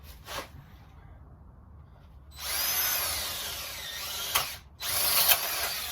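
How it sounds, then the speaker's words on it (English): A power drill whirs up loudly for a couple of seconds, drilling an electrical back box, pauses briefly, then revs again close by, with a faint voice before it starts. "Drill this one."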